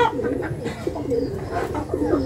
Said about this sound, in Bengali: এটা অস্ট্রেলিয়ান ঘুঘু